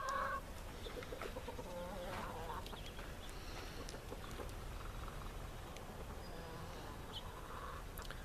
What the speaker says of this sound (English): There's my rooster. He acts real funny in the morning with the girls.